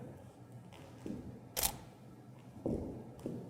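A Canon camera shutter fires Canon 600EX-RT Speedlites, making a few crisp clicks in a quiet room, with one sharper snap in the middle and softer mechanical clicks spaced around it.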